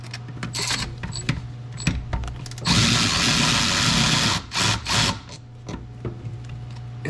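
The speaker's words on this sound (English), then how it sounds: "So we've got our 10 mil ratchet here." A 10 mm ratchet works on ignition coil bolts: scattered sharp metallic clicks and ticks, then a loud sustained whirring burst of a few seconds, followed by more short clatters, close up.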